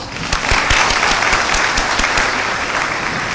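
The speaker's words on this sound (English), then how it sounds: "Can we have a round of applause?" Steady audience applause fills a hall at a university meetup, many hands clapping continuously at moderate loudness for a few seconds with no voices over it.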